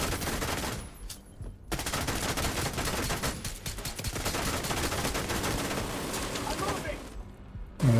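Rapid bursts of gunfire from a sniper turret in a shooter video game, loud and dense, nearly continuous with short gaps, mixed with other game noise and someone talking.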